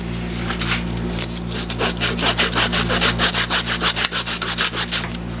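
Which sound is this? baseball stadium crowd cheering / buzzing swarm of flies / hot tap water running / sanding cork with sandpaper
sanding cork with sandpaper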